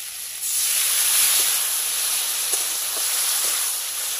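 Water is poured into a mustard and poppy-seed vegetarian curry of tender drumstick stems and potato. A sudden, loud, bright hiss bursts up close and holds steady, easing only slightly over a few seconds with faint bubbling beneath.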